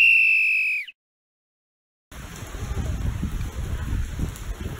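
Steady in-game rain in Splatoon 2, a continuous hiss of drops that starts abruptly after a beep and a short silence, moderately loud and alone with no talk over it.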